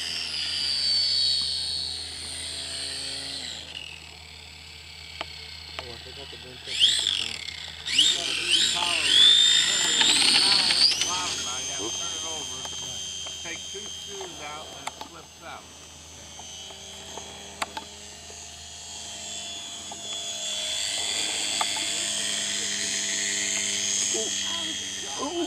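A large blue Cadet model airplane engine runs at a flying field, a steady high-pitched buzz that rises and swells as it revs, with people chatting nearby throughout.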